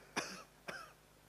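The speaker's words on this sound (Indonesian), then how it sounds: "Orang tuanya udah batuk." Two short, faint coughs from a person, spaced about half a second apart in a quiet room, each a brief raspy burst.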